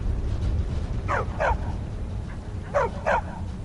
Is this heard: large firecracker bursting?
no